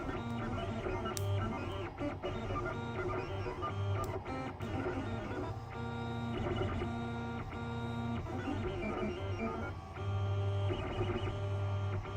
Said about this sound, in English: the printer lays the perimeter of the object down first, and then it goes in and fills in the interior